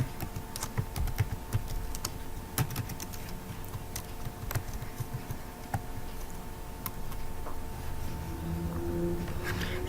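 Keys tap on a computer keyboard in an irregular run of quiet clicks lasting several seconds, close by and with no voice over them.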